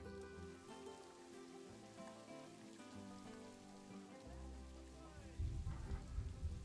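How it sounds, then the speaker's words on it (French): Steady rain falls in the zoo-building video game Planet Zoo, a continuous hiss over layered in-game music, with a heavier, louder rumble swelling near the end. "Là, il pleut"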